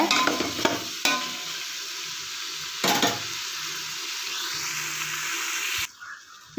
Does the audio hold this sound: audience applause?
no